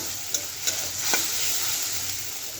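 Masala spice paste for a jackfruit and potato curry fries in a pan with a soft, steady sizzle, broken by a few light stirring scrapes.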